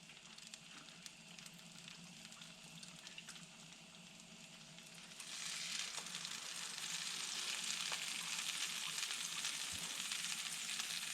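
Egg-soaked bread for French toast sizzles on a hot griddle, a steady frying hiss that jumps louder about halfway through as more bread lands, with no talking over it.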